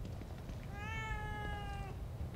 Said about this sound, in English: Wait, I want to pet the cat.